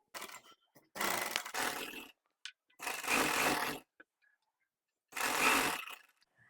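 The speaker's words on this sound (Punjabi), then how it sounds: "ਹੁਣ ਮੈਂ ਇਹਦੀ ਜਿਹੜੀ ਸਲਾਈ ਹੈਗੀ ਆ ਉਹ ਇਦਾਂ ਹੀ ਲਗਾਉਂਗੀ ਗੜਾਈ ਦੇ ਵਿੱਚ" A sewing machine stitches the seam of palazzo pants in three distinct bursts of rapid mechanical whirring, separated by short pauses with faint handling clicks.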